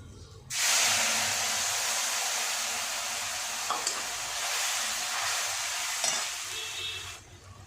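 Mustard and coconut paste drops into hot oil with black cumin in a pan for a spicy pabda fish curry, bursting into a loud, steady sizzle that hisses on with brief stirring scrapes.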